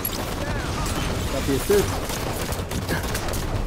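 Rapid gunfire from Halo 5 multiplayer on Xbox One, a dense, steady crackle of shots running throughout under a player's voice.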